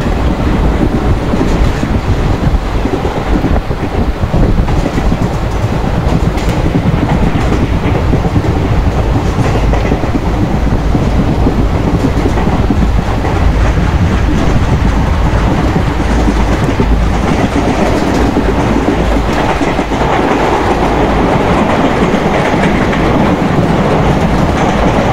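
A simulated Indian Railways passenger train on the Bhusaval–Katni route rolls along steadily in Open Rails, its loud continuous rumble and rail noise filling the whole stretch without pause.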